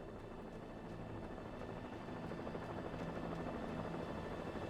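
Helicopters in the game Alan Wake give a steady, loud rotor drone with rhythmic thumping, continuous and unbroken across the whole stretch, with no voices over it.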